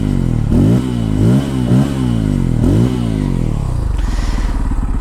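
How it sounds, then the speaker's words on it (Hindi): A Bajaj Pulsar N250 motorcycle revs its exhaust up and down in four or five sharp, loud blips, each rising and falling quickly, then settles into a close, steady idle. "देखो एग्जॉस्ट का साउंड सुन लो।"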